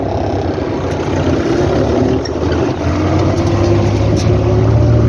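A tractor engine drones loud and steady while pulling an ORIGIN SEED 3.0 seeder during soybean sowing, holding a constant hum with a brief dip in the middle, heard close from the cab.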